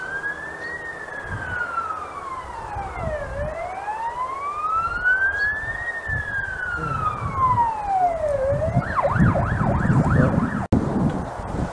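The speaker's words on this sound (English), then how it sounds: "fire engine go past" A fire engine siren passes on a nearby road beside a wild campsite in the Brecon Beacons, wailing in long rising and falling sweeps before switching to a rapid yelp, loud and close over traffic rumble.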